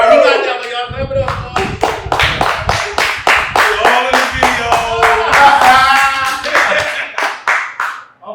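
Rhythmic group clapping on a beat from an LA audience, sharp repeated claps in a steady pulse under loud talking and shouting, closing with a few isolated claps.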